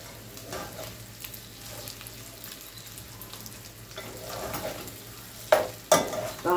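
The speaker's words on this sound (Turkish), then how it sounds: "Kavuralım pirincimizi." Rice is stirred and toasted in a hot pan, a soft steady sizzle with scraping strokes of a spoon and a few louder knocks near the end.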